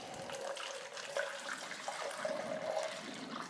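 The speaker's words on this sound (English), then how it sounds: "So I'm going to go ahead and pour in about 500 milliliters of each of these." Film developing chemicals such as stop bath and fixer are poured into a container, a continuous soft splashing, trickling flow of liquid heard close and fairly quiet, with no talking.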